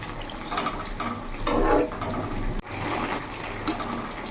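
Egg fritters simmer in a boiling curry, giving a soft, close bubbling and hissing that swells briefly and continues steadily with no talk.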